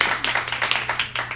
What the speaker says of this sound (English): Clap now for good.